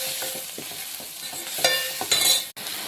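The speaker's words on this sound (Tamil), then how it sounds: "இஞ்சி பூண்டு விழுது போடுறேன். பாருங்கள், அது போட்டு நல்லா வதங்கணும்" Ginger garlic paste sautéing in oil in a pan for a crab soup, with light sizzling, scraping spoon strokes and a couple of louder bursts of frying near the end, no talking.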